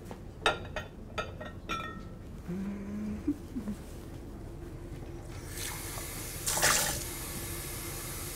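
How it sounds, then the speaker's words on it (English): Water being poured into a pot of cooking three-bean chili, a soft splashing pour that follows a few sharp clinks and taps, ending in a brighter rush of liquid. "I will add some water"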